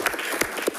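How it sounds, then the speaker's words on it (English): Brief burst of audience clapping at a school district board meeting, a few distinct claps heard up close over a steady room background. "Let's give Jo a round of applause to get her started."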